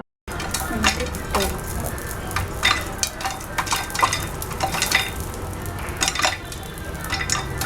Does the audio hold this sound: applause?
no